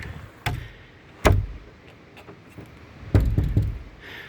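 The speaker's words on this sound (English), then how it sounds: "now you can probably hear the door." A door with new seal strips wiggling and knocking in its frame: a few sharp wooden knocks spaced apart, then a quick cluster of rattling knocks, close by in a quiet room.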